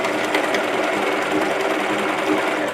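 A sewing machine stitches a half-inch seam with a locked back stitch on each side, a fast, continuous mechanical whir close by with no talking.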